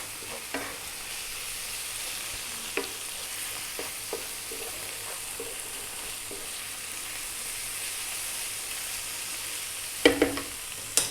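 Chili, coriander, cumin and turmeric sizzle steadily in a hot pan over above-medium heat for a fish curry, with a constant soft frying hiss and occasional light clinks of stirring.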